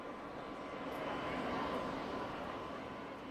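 A Nieuport replica biplane lands at an air show at Malmi airfield, its engine a steady broad drone heard from a distance under wind and open-air noise.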